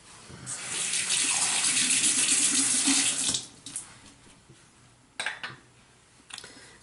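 Water runs steadily from a tap for about three seconds while hair is rinsed after lightening a section, then stops, leaving a few faint splashes and drips.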